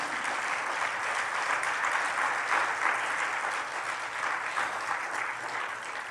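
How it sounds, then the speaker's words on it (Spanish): Church audience applauding, a sustained crowd of clapping hands with a few louder swells, heard from a moderate distance and fading slightly near the close, without talk. "Denle un aplauso fuerte."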